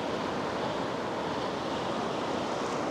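Pacific Ocean surf in Costa Rica in the evening, a steady, dense wash of breaking waves with wind buffeting the microphone, constant and loud with no distinct breaks and no talk.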